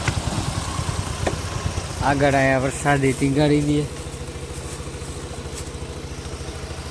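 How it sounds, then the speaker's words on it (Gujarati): A motorcycle engine idles steadily close by with a low, even throb that runs the whole time, while someone speaks briefly over it in the middle. "આપણા ભાઈબંધે આપણું બાઇક કાઢી લીધું"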